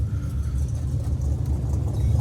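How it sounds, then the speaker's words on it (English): Cars pulling in at the NHRA Indianapolis drag races give a close, low engine rumble that holds steady and slightly swells, with no talk over it. "Oh, it's all cars pulling in."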